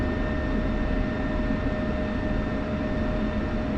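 An F-16 fighter jet taking off over Syria gives a steady, loud, close engine roar with a thin high whine running through it, unbroken and with no voices.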